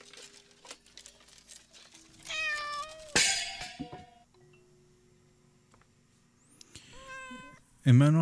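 A cat meows in the horror video game Layers of Fear: Inheritance, several distinct harmonic meows spaced apart, one loud sharp yowl midway and a final loud cry, over quiet room ambience with faint rustling and brief clicks.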